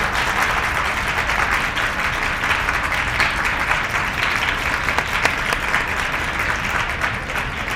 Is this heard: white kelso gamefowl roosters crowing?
no